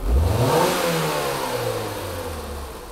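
A Ford engine revved hard above 3,500 RPM with a throttle snap, the roar climbing quickly at the start and then falling away as the revs drop, loud and close, with no voices.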